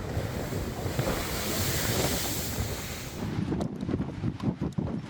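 Storm waves crashing on a coast near Panxón and Nigrán, a continuous loud roar of surf with heavy wind noise, easing into separate breaking waves toward the end.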